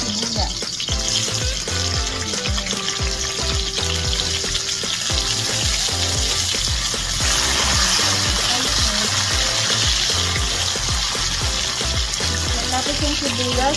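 Garlic, onion and ginger sizzle steadily in a hot pan, a continuous close frying hiss with occasional stirring scrapes, heard alone.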